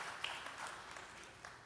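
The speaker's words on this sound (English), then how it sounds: "That's okay to clap for that" Faint, scattered clapping from a breakfast audience at a mayors' event, light and distant, fading out quickly.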